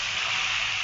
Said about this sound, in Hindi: और डालेंगे इसमें 1 कप पानी